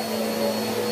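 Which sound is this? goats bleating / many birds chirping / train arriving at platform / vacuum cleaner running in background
vacuum cleaner running in background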